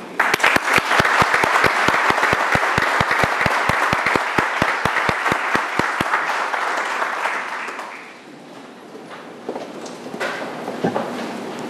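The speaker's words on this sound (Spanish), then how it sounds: "Aplauso." Steady audience applause at a cybersecurity symposium tribute, many hands clapping densely and loudly for about eight seconds before fading into a quieter room with scattered sounds.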